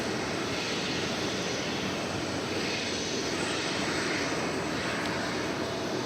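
An airplane on approach to land at DFW Airport, a steady loud broadband engine roar that holds throughout without pause, heard alone with no talk.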